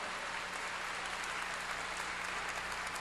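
A church congregation applauds during a sermon, a faint, even wash of continuous clapping with no distinct individual claps and no speech.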